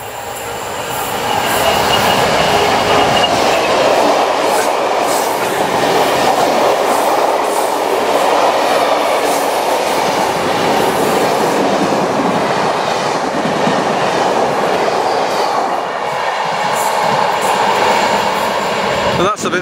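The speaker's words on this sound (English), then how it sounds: "Southbound freight train." A freight train rumbles past close by for its whole length, a steady loud roar of rolling wagons with faint wheel squeal and rhythmic clatter.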